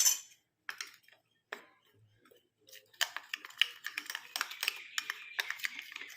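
A spoon stirs a homemade skin-whitening face pack mixture of juice and decoction in a bowl, soft irregular clinks and scrapes, sparse at first then quicker and steadier, close and quiet.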